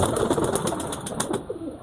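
Old white and Fatka-breed pigeons from Rajshahi in a loft, soft repeated cooing with bursts of wing flapping, close and moderately quiet, no talking.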